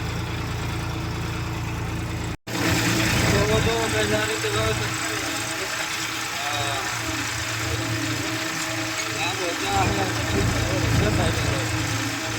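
A tractor pulling a harrow in a farm field drones steadily at close range for the whole stretch, cutting out for a split second near the start before rumbling on.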